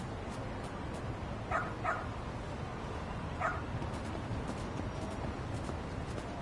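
A dog barks in the video game Lost Judgment, giving three short yips in two quick bursts over a steady noisy background, with no talk.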